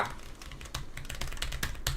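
Keys clacking on a Logitech G913 TKL low-profile mechanical keyboard, a quick irregular run of close, crisp taps over about two seconds.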